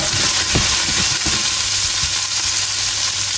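Shrimp and rosemary sizzle in a frying pan, giving a steady loud crackling hiss with a few soft stirring scrapes near the start.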